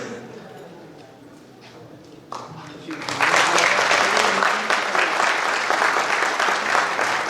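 An audience at a Rani Durgavati University ceremony in Jabalpur, part of a Corona awareness campaign exhibition and prize event, breaks into loud sustained applause after a quieter opening stretch, the clapping continuing to the end.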